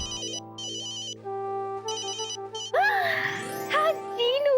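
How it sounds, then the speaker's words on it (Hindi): Phone ringtone playing a looping electronic melody with bright repeated chiming beeps, fairly clear and close, followed by a stretch where a voice talks over lingering musical tones. "हाँ जीनू, अच्छा तूने मुझे फोन किया।"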